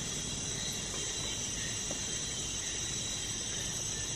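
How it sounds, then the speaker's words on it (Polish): Dense, steady insect chorus like cicadas drones through the Amazon jungle at sunset, a constant faint wash of high buzzing with no clear bird calls or voices standing out. "cały czas jest głośna i słychać i ptaki, i jakieś cykady i czasami słychać też małpy"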